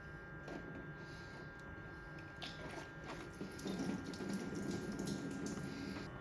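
Coolant pouring into the cooling system of a BMW E46 during bleeding, a steady soft watery flow with faint trickling, close and continuous with no talk.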